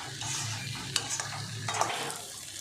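Ivy gourd fry cooks on a slow flame while a spoon stirs it, making a soft, close sizzle with a few scraping knocks against the pan and no talking.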